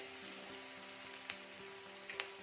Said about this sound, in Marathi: कांदा देखील छान रंग बदलेपर्यंत परतून घ्यायचा आहे.